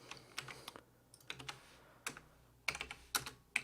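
Someone types on a computer keyboard while writing a code comment, producing quiet, irregular clusters of key clicks with short pauses between bursts.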